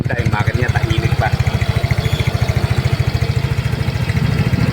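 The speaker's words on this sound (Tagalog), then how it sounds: "so maganda yung makina niya, tahimik pa." A Yamaha Mio Soul i 125 scooter idles up close with a steady, even low putter. The fast regular pulses hold constant throughout.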